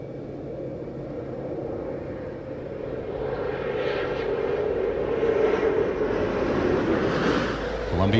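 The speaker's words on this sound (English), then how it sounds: "Altman now beginning to flare up Columbia's nose" Inside the cockpit of Space Shuttle Columbia as it flares for the STS-109 night landing: a loud, steady roar of rushing air and rumble fills the whole stretch and swells slightly as the nose comes up.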